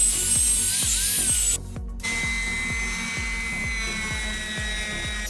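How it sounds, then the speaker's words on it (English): A belt sander with 80-grit paper sands wood, whirring steadily with a rhythmic low thumping, briefly cutting out for a moment before running on, loud and close. "I started off with the belt sander using 80 grit."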